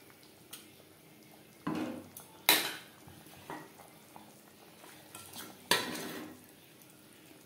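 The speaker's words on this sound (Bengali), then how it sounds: "মাছ বেশ ভালো করে মিক্সড করে দেব।" Fried tilapia pieces are stirred into bubbling gravy for a Bengali-style fish curry, giving a few sharp utensil clanks against the pot and soft scraping between quieter pauses, with no talking.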